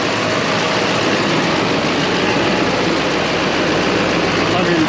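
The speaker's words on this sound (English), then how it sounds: "Let's kick up the high idle and see if we get any more power draw out of it." With its high idle kicked up to drive a performance alternator on test, the engine holds a loud, even roar at a constant pitch throughout.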